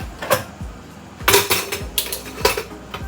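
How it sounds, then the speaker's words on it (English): A metal lid set onto a Tower pressure cooker, giving a few clattering metallic clanks and scrapes in short bursts, close and fairly loud, with no talking. "So I'm just going to pop the lid on."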